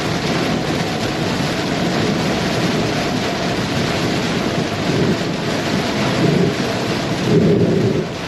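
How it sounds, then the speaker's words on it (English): Blinding, heavy rain pounds a vehicle driving into a storm during a possible tornado outbreak, a dense, loud, unbroken roar with rumbling thunder swelling beneath it toward the end. "Blinding rain. Driving right into it."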